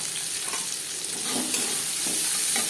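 Chopped onions fry in oil in a pan just used for frying potatoes, giving a steady, close hiss and crackle throughout with no talking.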